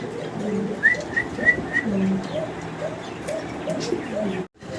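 A male pigeon coos repeatedly in a paired breeding setup, a series of low rolling calls near the microphone with a few brief higher chirps from other birds and steady background noise.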